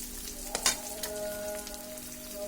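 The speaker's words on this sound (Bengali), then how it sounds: "এখন এটাকে একটু ভালোভাবে নেড়ে দেব।" Food frying in a pan and being stirred, a brief scrape and clatter of the spoon over a soft continuous sizzle, close by.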